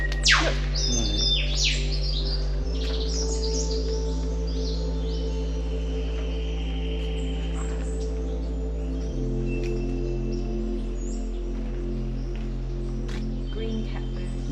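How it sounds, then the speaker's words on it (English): Green catbird calling in Dorrigo rainforest, with clear chirps and calls over a steady low drone, alongside other bird calls and insect hum through the forest. "Green catbird."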